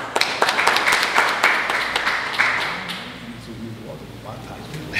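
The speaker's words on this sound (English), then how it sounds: "Round of applause" A crowd at a community event on lead service line replacement in Paterson, New Jersey claps for a pastor, a moderate burst of applause that gradually fades while a voice begins speaking.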